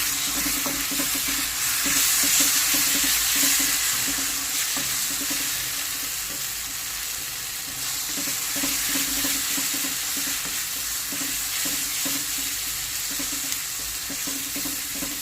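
Two spoons of ginger garlic paste fry in a pan while being stirred, a continuous close sizzle with scraping utensil strokes running steadily throughout, alone without any talk.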